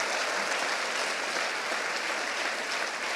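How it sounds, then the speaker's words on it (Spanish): A church congregation claps together in a steady, even wash of applause that sounds somewhat distant and soft, with no voices standing out. "Dele un aplauso al Señor y diga que solamente Él es digno."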